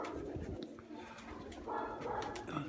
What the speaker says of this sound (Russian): Вон они где мотаются. Голуби.